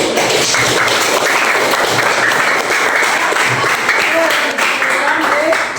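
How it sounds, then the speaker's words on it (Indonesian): A classroom group applauds together, a dense, steady burst of clapping that runs evenly for several seconds with a few voices mixed in. "Beri tepuk tangan dulu"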